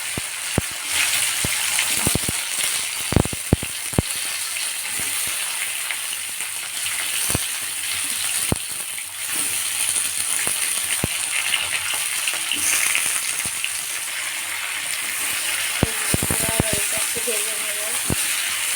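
Vegetables fry steadily in a hot pan after cumin seeds and chilli are tempered in oil, a continuous broad sizzle with scattered sharp clicks and scrapes of stirring, close and fairly loud, with a voice speaking intermittently over it.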